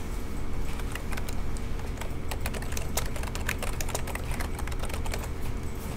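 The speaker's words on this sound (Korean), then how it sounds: "키보드로 del 키를 누르면 삭제됩니다." Computer keyboard keys are pressed during an AutoCAD lesson, giving a quick irregular run of many crisp close clicks over a faint steady hum.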